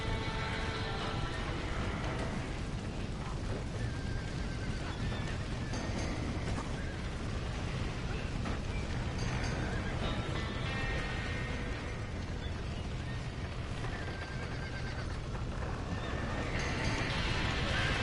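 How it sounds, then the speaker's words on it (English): Horses trapped in a building in Red Dead Redemption 2 neigh and whinny repeatedly over a constant roar of chaotic noise, with hooves clopping and shouting voices mixed in throughout. "¡Los caballos!"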